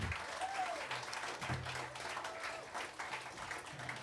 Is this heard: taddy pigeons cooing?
no